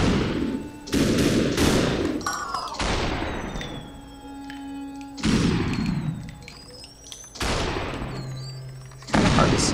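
Bursts of gunfire in the video game SuperHot, several loud separate volleys spread through the stretch with short gaps between them, a voice briefly talking between shots.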